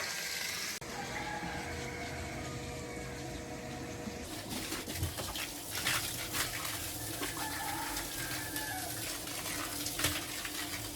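Water pumps out of a short hose into a cedar hot tub in a continuous, steady rushing flow. The pour grows louder and splashier after the first few seconds.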